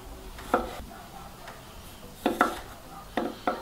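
A knife chops pickled cucumbers and zucchini on a board in a few sharp, irregular taps, about five strikes with short pauses between them.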